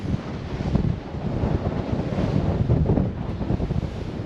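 Strong wind gusting across open water beside a Streamline 26 boat, a broad continuous roar buffeting the microphone, with waves and surf rumbling underneath and no voices.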